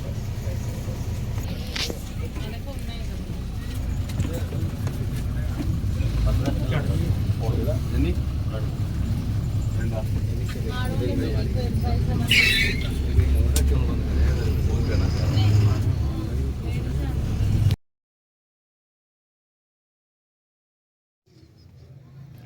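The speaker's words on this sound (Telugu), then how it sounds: "బస్సు అయితే ఎక్కేసాము, వెళ్తున్నాం" An electric bus travels on the road to Bhadrachalam, heard from inside the cabin as a steady engine and road rumble with rattles, while people talk over it. The sound cuts to near silence before a faint return.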